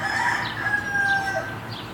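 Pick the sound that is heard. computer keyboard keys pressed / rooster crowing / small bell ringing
rooster crowing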